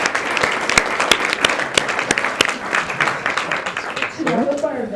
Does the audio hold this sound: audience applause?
yes